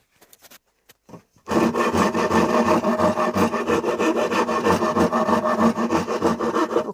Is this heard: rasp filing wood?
yes